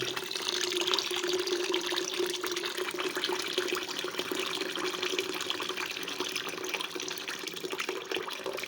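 Steady running boiled water streams continuously into a container for making rice wine, a close, even splashing pour with no voices.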